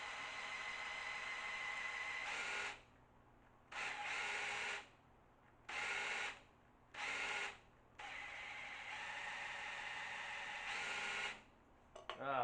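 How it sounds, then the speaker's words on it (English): A power drill spinning an engine oil pump driver whirs in repeated bursts of several seconds each, separated by short pauses, with a faint steady hum underneath. "we're going to use the drill to spin my oil pump driver"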